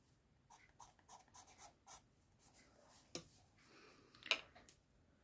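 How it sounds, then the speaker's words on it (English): Pastel pencil drawing on paper for a fairy village craft, faint, close scratchy strokes in short rhythmic bursts with a sharper scrape near the end. "with my pastel pencil"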